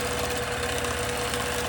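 A free-motion quilting sewing machine with its stitch regulator switched off stitches at an even pace, giving a steady, continuous mechanical whir and hum with no revving up or slowing down.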